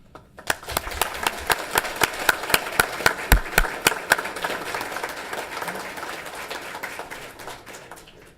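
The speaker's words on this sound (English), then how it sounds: "after our round of applause for your achievements" At a county Board of Supervisors meeting, a small group applauds promoted officers, with sharp, distinct claps in a rhythmic, nearly unison pattern that swells and then tapers off.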